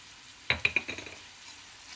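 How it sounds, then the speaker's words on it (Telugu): Onions with a little salt frying in a pan while being stirred; a few quick scraping clacks of the spoon over a faint, soft sizzle, close and brief, with no talk. "ఇది వేగనివ్వాలండి. చూడండి, ఉల్లిపాయలు వేగిపోయినాయి కదా."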